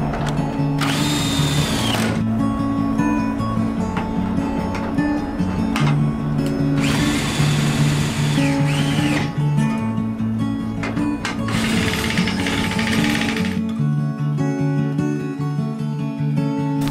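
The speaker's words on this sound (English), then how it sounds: "let's raise up our stabilizer jacks" Power drill whirring in repeated bursts as it cranks up the stabilizer jacks on an RV travel trailer, with steady loud mechanical running between the higher-pitched spins and no talking.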